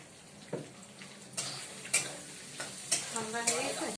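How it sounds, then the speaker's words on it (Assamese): Rice frying in oil for pilau: a low sizzle runs throughout, broken by sharp clicks and scrapes of stirring at irregular intervals, close and moderately loud, with a brief voice near the end. "মায়ে ইয়াত পোলাও বনোৱা ৰেডি কৰি আছে চাউল তেলত ভাজি আছে"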